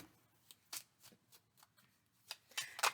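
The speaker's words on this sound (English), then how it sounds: "Let me shuffle this a little bit" Tarot cards being shuffled by hand, a string of soft riffling bursts and taps close by, quiet overall with a louder flurry at the end.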